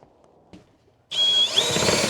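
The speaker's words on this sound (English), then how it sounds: "We're drilling holes in the roof." A power drill bites into the roof of a vintage RV, starting abruptly after near silence with a loud, sustained whine and a squealing pitch shift as the bit cuts through.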